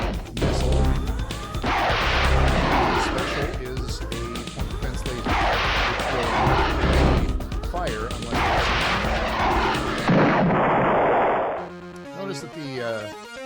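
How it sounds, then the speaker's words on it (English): Missile weapon fire in the space combat game Ur-Quan Masters 2, a dense, loud barrage of repeated launch and impact bursts with electronic sweeps, continuing for several seconds before trailing off into quieter game effects. "For the random ship, the attack is a missile."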